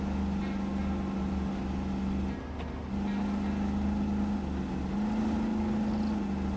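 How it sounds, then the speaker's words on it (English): A vehicle engine in the Roadcraft video game hums in a steady, monotonous low drone with a constant tone, briefly dipping once midway before resuming, with no talk. "the engine sound is a little bit boring"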